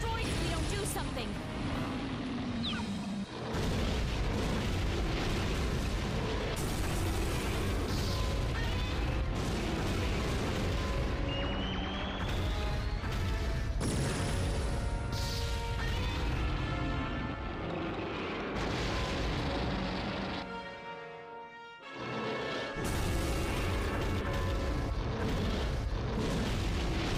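In the Godzilla video game, a generator is destroyed amid a loud, continuous wall of rumbling booms and blasts, dense and unbroken for most of the stretch, with a game voice talking over it.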